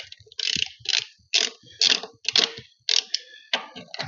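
Wheel nuts on a Massey Ferguson MF35 tractor being loosened with a wrench: a rapid series of sharp metallic ratcheting clicks in short bursts, close and fairly loud, with no talk.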